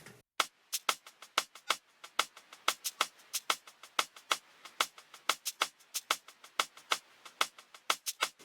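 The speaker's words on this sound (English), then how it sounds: "so I just found this percussion loop that I liked" A busy percussion loop of crisp, bright hits in a steady fast rhythm, repeating evenly for several seconds with no voices.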